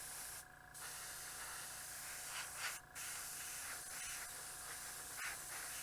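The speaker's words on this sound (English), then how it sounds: "then just airbrush inside your frame" An airbrush sprays paint onto glass flowers, a continuous close hiss broken by two brief pauses in the airflow, with no speech.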